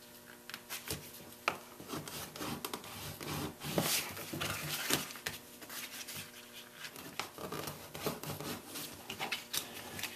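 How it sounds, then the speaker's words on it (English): A bone folder rubbing and creasing grooved leather along its edges while forming a leather take-out box, a close, dry scraping with repeated short strokes and soft taps, no one speaking. "let's use that bone folding tool, and let's go to each of these areas, fold it over"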